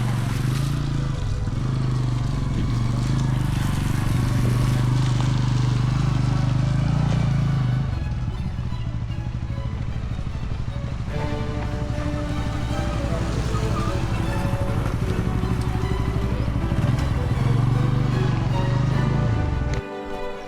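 A motorcycle rides along a road washed out by water on the way to Tedhe Mandir. Its engine drones loud and steady throughout, dipping and rising with throttle shifts around the middle and again near the end.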